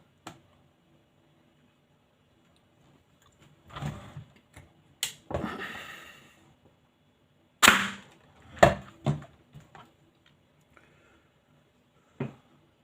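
A Novritsch SSR4 airsoft sniper rifle firing 0.28 gram BBs gives a few sharp, isolated snapping shots, separated by the mechanical clack of the bolt being worked, close and loud against near silence.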